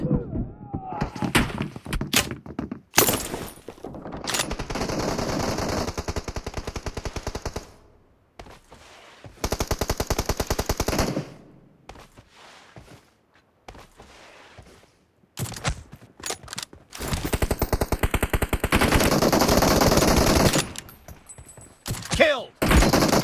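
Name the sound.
M24 sniper and pistol gunfire in video game PUBG Mobile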